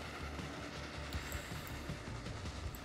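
A steam-era passenger train with an extra wagon added, running along the tracks in the railway simulation Transport Fever 2, a steady rumble with faint rhythmic clacks underneath.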